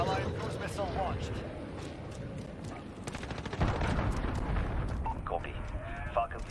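Dense gunfire and explosions rattle through a Modern Warfare shoot house match, with rapid bursts and booms layered over game radio chatter and voices throughout.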